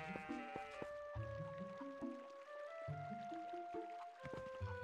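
Goats bleat in the video game The Legend of Zelda: Twilight Princess, several overlapping calls with a wavering, nasal quality, set against game background music and close at hand.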